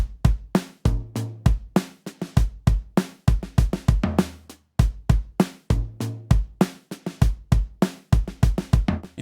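Programmed drum pattern from Addictive Drums 2 using a bright, snappy preset from a modern soul and R&B library, with sharp crisp hits and punchy low kicks in a steady repeating groove, close and alone.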